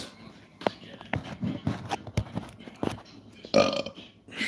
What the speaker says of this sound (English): That's part of the live stream. You get the belches.